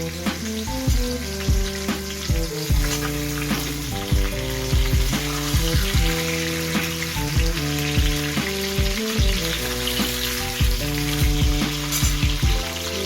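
Potatoes frying in hot oil in a home kitchen, a loud, steady sizzle with crackling and bubbling throughout, plus occasional stirring, and no one speaking.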